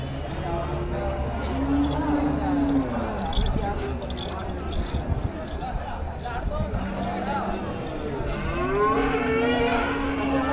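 Jersey cows lowing at a busy cattle market in Melapalayam, several long drawn-out moos rising over a constant din of crowd chatter and nearby voices.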